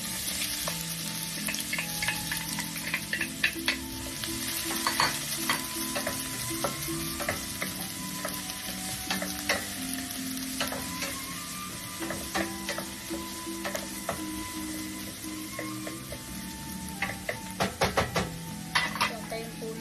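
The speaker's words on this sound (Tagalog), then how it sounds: "Ilagay na rin po natin yung onions and garlic." Onions and garlic frying in oil in a pan for spaghetti with hotdog, a steady close sizzle throughout with frequent clinks and scrapes of a utensil stirring against the pan.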